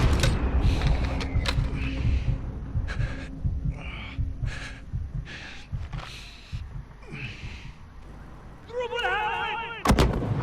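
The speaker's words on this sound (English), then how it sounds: "You don't have to use this grenade launcher, but it saves having to be accurate enough." Grenade launcher fire in the Modern Warfare campaign: a run of loud booming shots and blasts in quick succession over rumbling battle noise, with a sharp report near the end.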